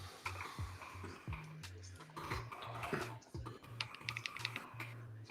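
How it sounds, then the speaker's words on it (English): Rapid, irregular clicking of computer keyboard typing fills the scene, several keyboards tapping close by in uneven bursts over a faint low hum, with no speech. "you can hear different kinds of keyboards."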